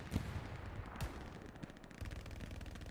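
Bursts of gunfire in the video game Hell Let Loose: dense, rapid automatic fire mixed with heavier thumping blasts, continuous and fairly loud, with no voices.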